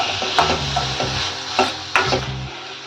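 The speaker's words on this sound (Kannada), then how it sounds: "ಈಗ ಒಂದು ಟೊಮೆಟೊ ಹೆಚ್ಕೊಂಡಿರೋದನ್ನ ಹಾಕ್ತಾ ಇದ್ದೀನಿ. ಟೊಮೆಟೊ ಬೇಯಕ್ಕಾಗಿ ಸ್ವಲ್ಪ ಉಪ್ಪು ಹಾಕೋತಾ ಇದ್ದೀನಿ." Chopped tomato and salt stirred into a frying ridge gourd curry, with irregular scraping and clacking strokes of a spoon against the pan over a light sizzle, close and with no voices.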